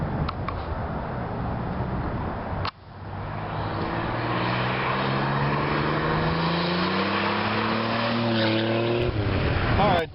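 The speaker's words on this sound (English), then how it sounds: "so we went ahead and did a quick run in third gear" A Nissan car on an ECU tuning run accelerates hard in third gear, the engine note climbing steadily and loudly after a brief cut near the start, then dropping off at the end.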